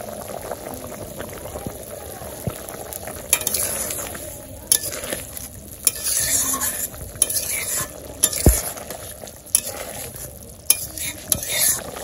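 Curry sizzles and bubbles in a pan after a cumin seed tempering in a village kitchen, with steady frying hiss, occasional stirring scrapes and sharp clinks over about twelve seconds, close and moderately loud, no talking.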